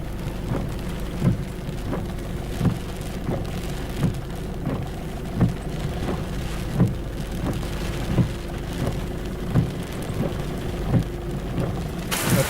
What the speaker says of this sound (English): storm's pretty well on top of us at the moment